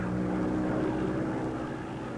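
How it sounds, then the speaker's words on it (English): A 1944 Avenger carrier aircraft missing its left wheel returns and lands: a steady, loud propeller-engine drone with a low hum, unbroken throughout and without voices. "Here, one of our aircraft, an Avenger, returns with a missing left wheel and makes a safe landing."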